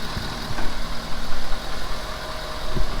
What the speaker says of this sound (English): Perfect. Fired right up.